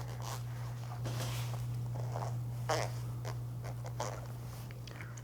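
A clothing zipper freshly treated with lubricant is run up and down repeatedly, giving soft, close scratchy rasps in uneven bursts over a steady low hum, with no talking.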